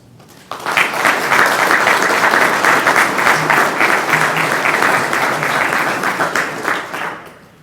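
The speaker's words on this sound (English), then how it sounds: "So let's give yourselves a round of applause." Sustained loud applause from a large audience at a 2021 Army ROTC commissioning ceremony for a spring class, starting abruptly, holding steady for several seconds and fading out near the end.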